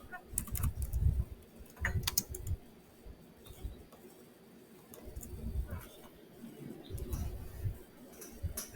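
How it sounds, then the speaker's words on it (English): Typing on a computer keyboard while reviewing trading charts, bursts of close, quick key clicks in clusters separated by short pauses. "And I can type in what I'm looking at there."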